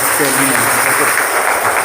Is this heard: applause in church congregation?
yes